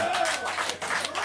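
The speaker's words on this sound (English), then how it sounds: "They're clapping right now" Brief audience clapping: a quick patter of claps in a crowd, moderately loud and continuous throughout a short stretch.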